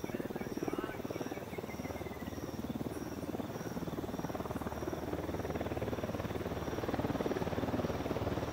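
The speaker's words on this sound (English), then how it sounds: "Don't need that chopper." A helicopter in the video game Ghost Recon Wildlands thumps with a rapid, steady rotor pulse at a distance beneath a chirping night ambience of insects and frogs.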